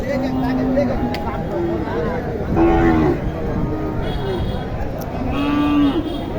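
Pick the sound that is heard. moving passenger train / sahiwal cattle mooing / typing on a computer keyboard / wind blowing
sahiwal cattle mooing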